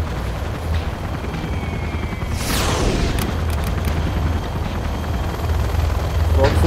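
Crocodile attack helicopter in the strategy game Generals, a loud steady rotor roar with a swooping pass midway and faint game effects around it.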